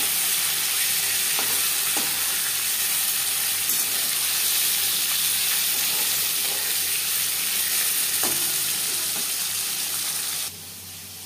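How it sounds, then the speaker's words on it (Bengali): Fish fillets fry in oil in a pan for a fish curry, giving a steady, loud, close sizzle with a few faint clicks. The sizzle runs throughout and drops suddenly near the end. No one speaks. "একটা সাইড ভাজা হয়ে গেলে অপর সাইডটা উল্টে দেব।"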